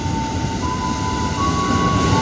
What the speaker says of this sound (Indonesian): KRL arah Bekasi merapat di stasiun Matraman dari arah Manggarai